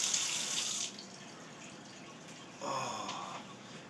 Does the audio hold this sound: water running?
yes